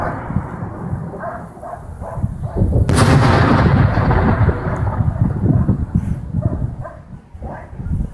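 A loud, sharp boom of mortar fire cracks out near Oktyabrskoe during the war in Ukraine, followed by a long rumbling echo that rolls on for several seconds amid outdoor background noise.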